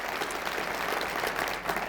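Audience clapping for county officials, including the jailer, clerk and sheriff, at a State of the County address, a steady even wash of applause from a large room that holds through to the end.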